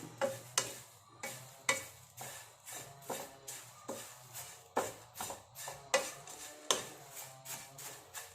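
Herbal medicine ingredients dry-roasting in a pan while being stirred, with steady scraping strokes repeating about every half second over a soft crackle, close and fairly loud, no talking.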